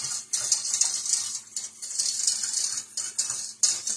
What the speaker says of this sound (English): Whisk, whisk.